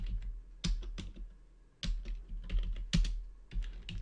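A number being typed on a computer keyboard, heard close and alone as short bursts of sharp plastic key clicks with brief pauses between them.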